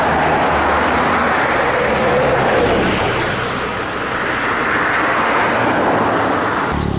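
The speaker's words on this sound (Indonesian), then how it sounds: "Bus Gunung Harta kali ini meluncur dari arah timur." A red Gunung Harta JetBus 5 coach approaches from the east and rolls by on a very busy road at a crowded peak hour, its engine and tyre roar blending into steady, loud traffic noise for several seconds.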